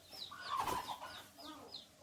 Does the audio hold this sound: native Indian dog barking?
no